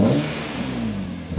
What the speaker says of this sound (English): we can maybe just rev this thing slightly for you